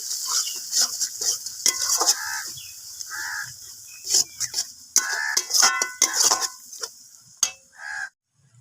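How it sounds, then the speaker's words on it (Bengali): Chili and turmeric powder sautéed in a pan for a fish dish, with intermittent scraping and stirring strokes over a light sizzle, the spoon knocking in uneven bursts and then stopping near the end. "এবার সব মশলাকে আমি ভালো করে কষে নেবো"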